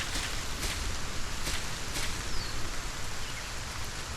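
Steady rain falls in a Solarpunk game world on a flying island, a soft continuous patter with faint intermittent drip ticks, even and moderately quiet throughout.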